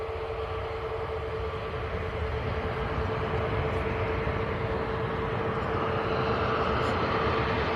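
Boeing 737-800 jet engines at Manchester Airport roar with a steady, loud, broadband rumble and a sustained whine, heard continuously from a distance as the jet powers up.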